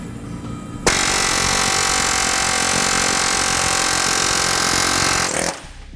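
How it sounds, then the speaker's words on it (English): An air hammer rattles in one loud, continuous burst of about four and a half seconds, driving out a weld nut on a 2012 Honda CR-V, with rapid metallic hammering that starts abruptly and cuts off sharply. "I highly recommend that you use an air hammer, as it'll speed it up and save you a lot of heartache"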